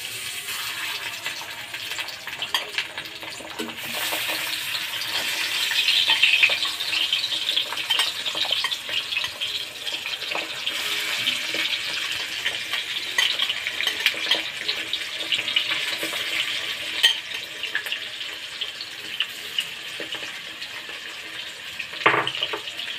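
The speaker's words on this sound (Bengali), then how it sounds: "তেলটা আমাদের গরম হয়ে এসছে, এবার দিয়ে দেবো একে একে মাছগুলো।" Fish pieces frying in hot oil, a continuous dense hiss and crackle that holds steady throughout, close by and with no voices.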